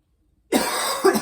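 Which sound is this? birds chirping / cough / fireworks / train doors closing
cough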